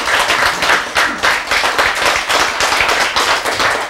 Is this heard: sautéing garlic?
no